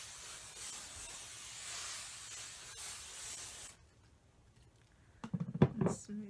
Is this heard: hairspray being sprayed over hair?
yes